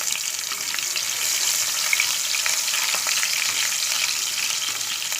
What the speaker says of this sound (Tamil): பூண்டு பொரிஞ்சிச்சு.